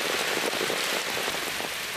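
Heavy rain falls steadily on surfaces outdoors in India, a dense continuous patter with no pauses and no voices.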